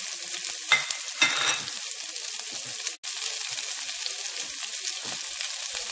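Bell pepper, celery and carrot sizzle steadily in a hot pan, with a continuous close crackle, a few louder bursts as pieces are stirred, and a brief cut midway.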